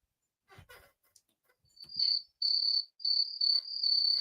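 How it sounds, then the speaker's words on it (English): Crickets chirp near the mic, first faintly and then in loud, sustained high-pitched trills broken by short gaps, after a brief soft rustle. "Got some crickets."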